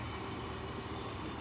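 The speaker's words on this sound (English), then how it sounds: "You can see the train." A train rumbles steadily and fairly loudly throughout, a continuous broadband roar with no clear breaks and no talk over it.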